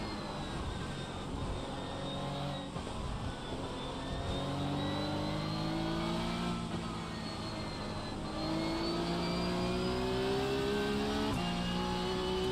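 A Porsche Cup race car engine drones continuously at Spa in a racing game, its steady close whine rising in pitch through the gears with brief drops at shifts, and no talk.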